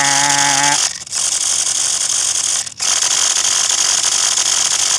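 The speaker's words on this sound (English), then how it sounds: "Look at the servo's brapping." A steering servo on a modified RC car buzzing with a tonal whine at first. A dense, loud mechanical rasp then runs steadily, with two brief dropouts.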